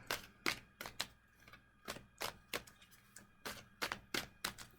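A deck of tarot cards being shuffled, heard as soft, steady flicking and riffling clicks in a quick, irregular rhythm, faint and close, with no talk.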